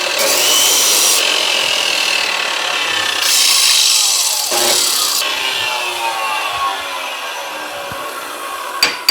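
A harsh, rasping grind flattens a burr on metal during third brake light and trunk latch installation on a 1940 Ford-inspired car, in long strokes with short pauses, loud and close, with no talking.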